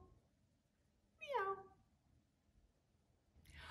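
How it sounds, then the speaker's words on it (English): A single cat meow rises and falls once, short and fairly clear against a quiet background, followed by a faint brief noise. "And the cat says, meow."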